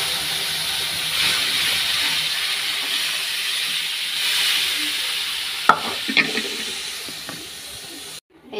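Dal poured into a hot pan sends up a loud, steady sizzle and hiss, broken by a few sharp knocks of a utensil near the end before it cuts off.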